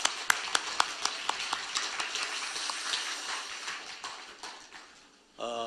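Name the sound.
applause for the church choir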